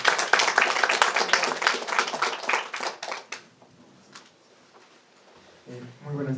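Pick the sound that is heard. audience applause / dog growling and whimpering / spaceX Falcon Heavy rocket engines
audience applause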